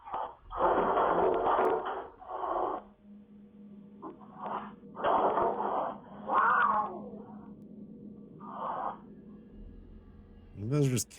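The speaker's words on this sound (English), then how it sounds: "I think those are just cats fighting." Cats fighting inside a living room, with repeated loud yowls, hisses and caterwauling in several bursts over about eleven seconds, and one sharp rising wail near the end.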